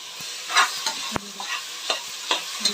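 Tomatoes fry in a pan under a soft sizzle, punctuated by repeated stirring scrapes and taps of a spoon, with one sharp knock near the middle and no talking.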